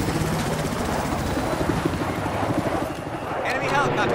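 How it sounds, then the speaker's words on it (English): A helicopter in the shooter Battlefield 4 gives a loud, steady rotor chop throughout, a rapid rhythmic thumping under busy in-game noise and player voices. "Enemy helicopter."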